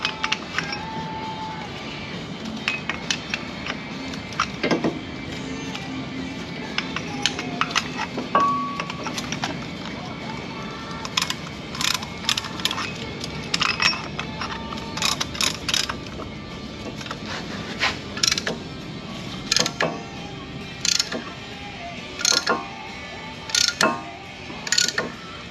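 Repeated mechanical clicks and ratcheting as a tool compresses brake caliper pistons on a Kia Sedona, irregular and close, with occasional metallic clanks and faint background noise.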